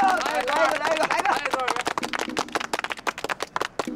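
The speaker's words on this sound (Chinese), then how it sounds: "来来， 鼓掌啊你们！" A group of people claps at an informal gathering, starting with mixed voices and cheering that fade as rapid, uneven hand claps take over and continue close by.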